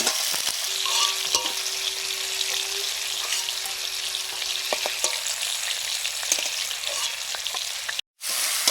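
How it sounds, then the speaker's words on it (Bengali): Eggplant fries in a pan of hot oil for a home-cooked fish curry, giving a steady, close sizzle that runs unbroken except for a brief dropout near the end. "বেগুনটা ভেজে নিচ্ছি"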